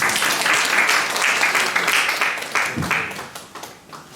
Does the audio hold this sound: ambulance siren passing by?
no